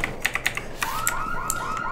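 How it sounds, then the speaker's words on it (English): A few quick clicks, then an alarm in the video game Criminality starts up: a repeating rising electronic whoop, looping steadily and fairly loud. "And now, the alarm has gone off."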